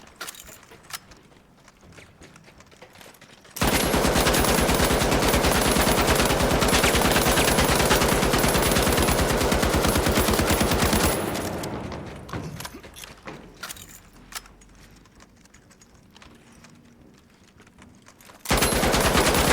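An M60 machine gun in a video game fires one long, loud sustained burst of about eight seconds, rapid and unbroken, with quieter ambient game noise before and after.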